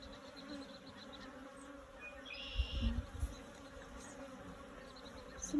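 Agitated honeybees buzz steadily at an opened hive during an inspection, a dense close hum that swells briefly with a louder burst of wingbeats partway through.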